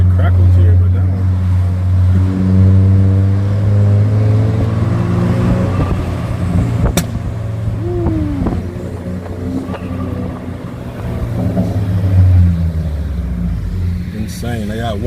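Chevrolet Cruze engine running with a crackle exhaust tune, a steady loud drone and a few brief pops while driving past lined-up trucks, with people talking inside the car over it.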